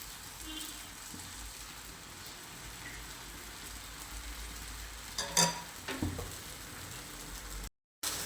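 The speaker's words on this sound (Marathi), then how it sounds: "दोन्ही साईड आपल्याला छान अशा भाजून घ्यायचे आहे कमी गॅसवर भाजायचे आहे" A wheat flour dhirde batter pancake with vegetables fries on a pan over low gas, giving a steady soft sizzle throughout with a few brief louder crackles near the end.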